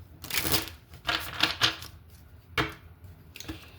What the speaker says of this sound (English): I'm going to throw these back into the deck, and I'm going to shuffle.